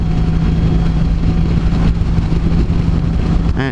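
A Honda CTX1300 motorcycle riding on a windy road, its steady mid-range engine drone loud and close with constant rumble and wind buffeting throughout, no talk.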